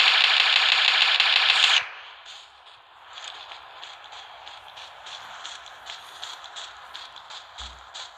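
Loud, rapid automatic gunfire from the Fortnite Mobile video game bursts for under two seconds, then gives way to softer rustling and faint in-game clicks.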